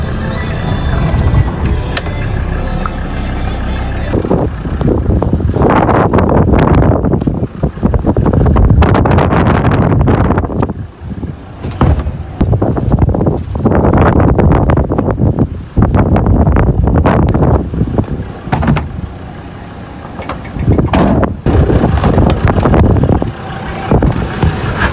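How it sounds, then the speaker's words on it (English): Strong wind buffets the microphone outdoors on a farm, a heavy roaring rumble that surges and dips in gusts throughout, with brief quieter lulls between blasts. "obviously it's very windy outside"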